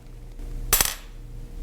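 A marble taps a pane of glass once, giving a single sharp, bright click with a short ringing tail, close and fairly loud against a quiet room.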